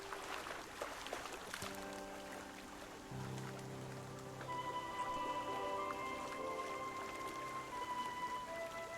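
Rain falls steadily in the video game Waven, a soft even patter that runs under game music with tonal chimes and sustained notes, with no talk heard.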